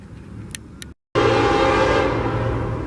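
After a quiet moment and a brief cut, a northbound Norfolk Southern freight train roars past close by in Sweetwater, Tennessee, a loud, steady rumble that fills the scene.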